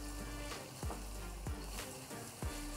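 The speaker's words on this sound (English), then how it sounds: "lamb that already marinated with the curry powder. Continue to stir fry." Curry-marinated lamb sizzles steadily as it is stir fried in a pan, with a few sharper scraping stirs cutting through the constant frying hiss.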